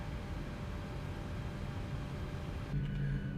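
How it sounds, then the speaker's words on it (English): Steady rumbling engine noise from a PMDG 737-900ER taxiing in a flight simulator, with a faint grinding, scraping texture like wheels rubbing, continuous and fairly close, with a brief tonal hum near the end. "It sounds like my wheels are like rubbing or something."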